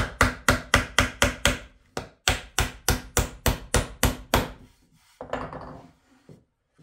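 Hammer blows drive a nail into a wooden birdhouse being built by hand: two fast runs of sharp, evenly spaced strikes, loud and close, separated by a short gap, followed by a brief scraping shuffle.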